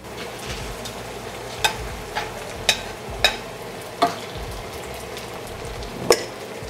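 Day-old rice fries in hot oil in a pan for bagoong fried rice, a steady close sizzle broken by a handful of sharp clacks as the spatula stirs.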